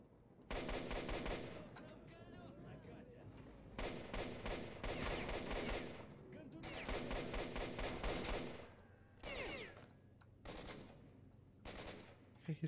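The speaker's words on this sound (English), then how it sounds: "He's shooting me through a wall" Enemy gunfire in S.T.A.L.K.E.R. Shadow of Chernobyl rattles in long sustained automatic bursts, loud and dense, broken by short pauses and a few shorter volleys toward the end.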